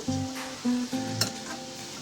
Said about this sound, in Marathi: सोनेरी कलर येईपर्यंत तळून घ्यायचे।